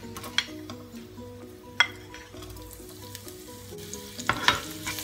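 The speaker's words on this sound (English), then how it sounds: "saute garlic and chili in olive oil." Garlic and chili sauté in olive oil with a bright, close, continuous sizzle, punctuated by a few clinks of a utensil against the pan.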